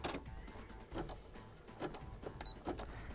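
A sewing machine fitted with a big foot for darning, quilting and embroidery stitches in a faint, steady mechanical whir, with soft rhythmic ticks repeating roughly every second.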